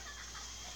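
Chicken clucking from a video game, a soft continuous stretch of short clucks heard faintly with no talking over it.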